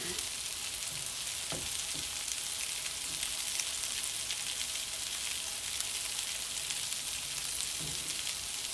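Turkey Swedish meatballs brown in a pan with a steady, even sizzle that runs throughout at moderate volume, broken by a few soft knocks and scrapes.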